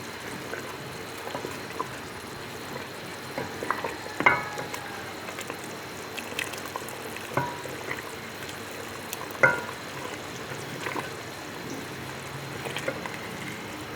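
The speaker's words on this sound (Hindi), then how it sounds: "एक चूल्हे पे हम पकौड़े बना रहे हैं, दूसरे चूल्हे पे हमारी कढ़ी पक रही है।" Pakoras sizzle steadily in hot oil on a stove while kadhi simmers on a second burner, a soft continuous crackle with occasional louder pops and stirring clinks, no talking.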